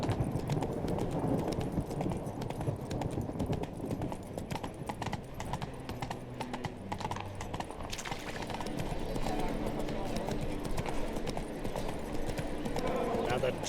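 Horse hooves clip-clop steadily in The Witcher 3, a ridden mount trotting along at close range under a continuous bed of game ambience and voices talking, with an occasional whinny.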